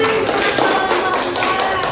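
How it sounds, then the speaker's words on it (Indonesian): An audience of students in a classroom applauding after a presentation, a dense, continuous patter of clapping hands at close range with a hum and faint murmur beneath. "Beri tepuk tangan."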